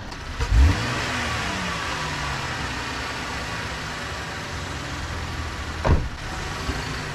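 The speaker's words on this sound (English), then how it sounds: "this doesn't even have the intake, the exhaust on it yet, and it has no intake, so it's loud" A car engine with no intake or exhaust fitted runs loud and steady throughout, with two brief sharp revs, one near the start and one near the end, and no talking.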